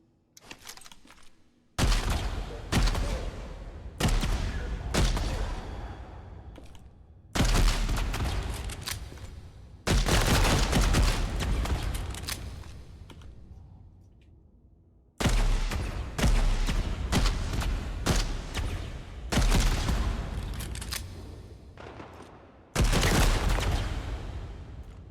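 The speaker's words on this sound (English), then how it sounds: "I do love the Seeker rifle." Seeker rifle gunfire in a video game, arriving as bursts of loud, rapid shots separated by short pauses, with some single reports and trailing echoes between volleys.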